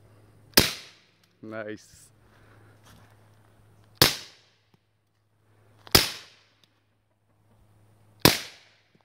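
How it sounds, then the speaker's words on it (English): Four sharp suppressed shots from a Springfield XD 9mm pistol fitted with a Guardian 9 suppressor, spaced about two seconds apart, each with a short decaying tail, and a brief spoken word between the first two. "So go ahead and give us a shot."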